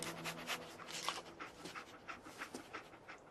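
Dogmeat, the dog companion in Fallout 4, pants quickly and rhythmically while tracking a scent, a close, fairly soft sound with no talking.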